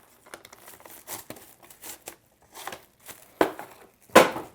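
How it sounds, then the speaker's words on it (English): A sheet of plastic wrap for wrapping sticky babka dough is pulled and crumpled in a series of uneven crinkling bursts, close and fairly loud, with the last two snaps the sharpest. "Then get a bunch of plastic wrap."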